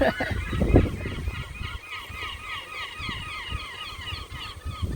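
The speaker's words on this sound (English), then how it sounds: "Hear the seagulls?" Seagulls call repeatedly in the distance, a steady chorus of honking cries with a brief louder rustle early on and no talking, in a summer garden.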